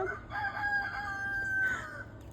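Backyard chickens clucking while a rooster crows in a long drawn-out call, moderately close and clear over a steady low background hum, with no talking.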